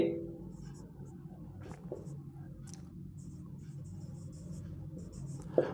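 Chalk or marker scratching across a board during a physics class, steady soft strokes with a few clicks, close and low in level under a quiet, murmuring voice.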